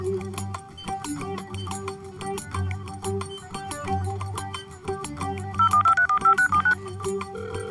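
A phone rings in a room with music playing: a short burst of bright, repeated electronic ring tones rises over the steady music for about a second before stopping.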